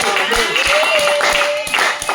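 Rhythmic hand clapping from a church congregation with music or singing carrying over it, steady and lively for a couple of seconds.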